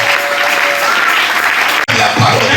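Church congregation at a Sunday service in Kinshasa bursts into loud, sustained applause and cheering that fills the space, with a brief dropout near the end before the clapping resumes.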